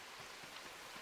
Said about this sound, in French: il pleut tout le temps ici d'ailleurs